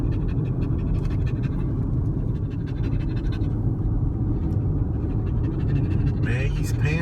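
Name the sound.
dog panting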